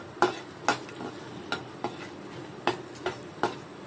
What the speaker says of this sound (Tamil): வறுக்கிறேன்.